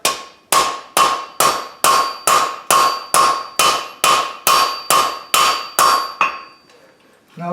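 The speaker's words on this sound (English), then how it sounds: "Notice I'm using the peen of the hammer to do this." The peen of a hammer strikes hot iron while a wreath hook is forged, twelve loud, close, evenly spaced blows with ringing metallic decay, followed by a quiet pause.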